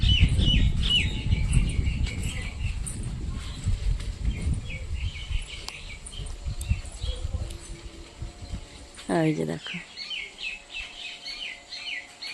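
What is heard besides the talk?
birds singing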